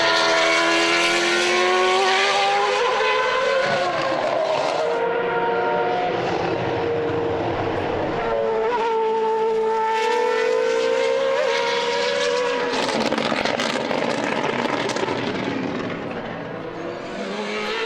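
Race cars lapping the Portimao circuit during an Acceleration 2014 race, engines screaming through rising and falling gear pitches as cars roar past one after another, loud and close with bursts of wind and crowd-like noise between passes.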